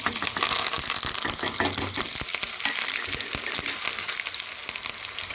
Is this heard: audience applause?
no